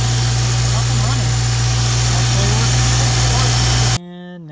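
Jeep Cherokee XJ engine idling after a jump start at a forest campsite, a loud steady rumble close by that cuts off abruptly near the end.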